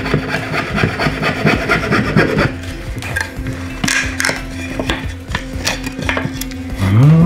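A small hand saw cuts apart wooden harpsichord keys in a workshop, making close, loud, rhythmic rasping strokes of wood being sawn, with a few knocks and a scrape at the end.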